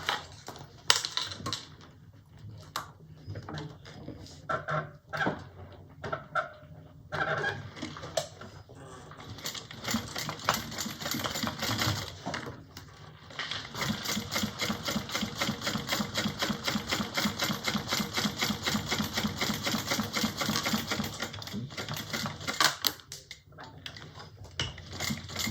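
A leather wallet being stitched by machine: bursts of rapid, regular mechanical clatter, then a long steady run of fast ticking stitches close by, with short pauses between runs and no talking.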